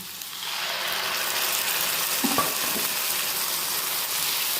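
Onion sizzles steadily in mustard oil with garlic, ginger, green chili and tomato paste, a continuous broad frying hiss with a few faint stirring knocks midway.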